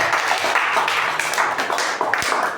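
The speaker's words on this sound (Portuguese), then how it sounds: "Palmas bem forte para Jesus" A church congregation claps loudly and steadily, a dense broadband wash of many hands sustained throughout, with faint voices beneath.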